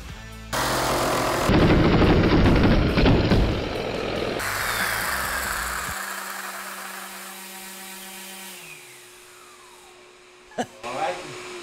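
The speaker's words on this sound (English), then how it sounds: "I'm gonna use the circular saw to cut a little bit closer to the line that we traced" A circular saw cuts a long live edge wood slab for a truck tailgate, with a loud, close, rough whirring cut for a few seconds, then the blade spins down and fades, ending with a couple of sharp knocks.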